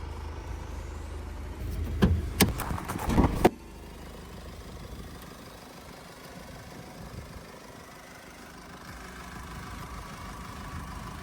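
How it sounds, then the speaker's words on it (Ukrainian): Diesel Mercedes-Benz GLC 220 d 143 kW 4MATIC engine idling at a steady, quiet low hum, after a short burst of louder clatter and knocks at the start. "Двіжок запускається з півоберта, впевнено тримає оберти, працює тихо і стабільно."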